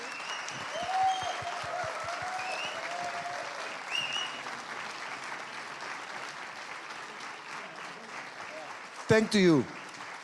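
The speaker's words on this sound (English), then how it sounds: "Thank you for the applause." Conference audience applauding organizers at a Drupal event, a steady wash of clapping running about nine seconds, with someone speaking over it and a brief louder burst near the end.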